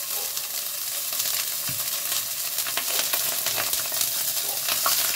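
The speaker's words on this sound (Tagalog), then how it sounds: "kailangan natin iprito yung isda" Fish frying in hot oil for sarsiyadong isda makes a loud, dense, steady sizzle with constant crackling and spattering pops close by.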